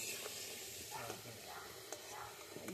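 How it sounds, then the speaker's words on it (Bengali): Potatoes frying in hot oil give a soft, steady sizzle with occasional stirring scrapes, quiet and low in level, while a voice speaks over it. "তেল গরম হয়ে গেছে, তেলে আলুগুলো ছেড়ে দিচ্ছে। আলুগুলো ভালো করে নেড়ে চেড়ে ভেজে নেবে"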